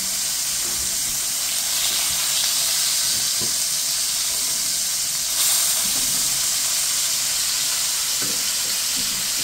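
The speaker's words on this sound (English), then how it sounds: "And now I got the burgers, getting ready to flip them." Burgers sizzle on a hot grill at a farm, a loud, steady crackling hiss throughout with a few soft scrapes and knocks of a spatula, close and uninterrupted by talk.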